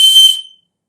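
A single sharp, high-pitched whistle made by blowing across a pen cap, loud and close, lasting about half a second before quickly fading out.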